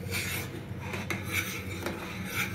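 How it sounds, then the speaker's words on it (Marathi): A spoon stirring rice in milk in a pot for rice kheer, giving a steady, continuous scraping and swishing against the pot with a few slightly louder strokes, close up and without speech. "तांदूळ दुधामध्ये व्यवस्थित ढवळून घ्यायचे आहेत"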